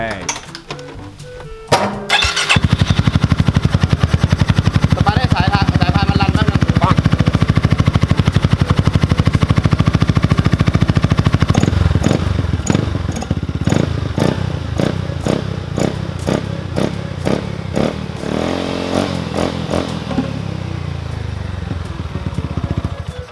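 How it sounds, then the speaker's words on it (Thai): Scooter engine started after drive belt and clutch bell work, a loud close revving roar with rattling and clatter that holds steady and then fluctuates over twenty seconds. "เราก็มาสตาร์ทครับทีนี้ สตาร์ทเลยให้สายพานมันขึ้นนะครับ"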